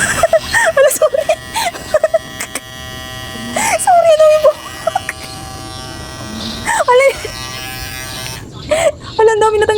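Visage wet and dry electric shaver running on hair, giving a steady near buzz throughout. A voice talks over the buzz, with short exclamations and whimpers in between.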